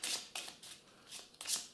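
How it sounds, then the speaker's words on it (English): Playing cards numbered 1 to 20 for a children's counting game are shuffled by hand in several brisk riffling bursts separated by short pauses, close and fairly soft, with no talking. "It uses the cards 1 to 20. They are shuffled"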